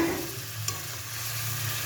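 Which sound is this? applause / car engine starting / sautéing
sautéing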